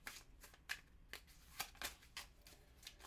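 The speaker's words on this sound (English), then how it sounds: "Shuffle the deck of planet cards." A deck of planet cards from the Tiny Epic Galaxies board game gets shuffled, producing soft, close riffling and brisk card slaps in quick irregular bursts, quiet overall.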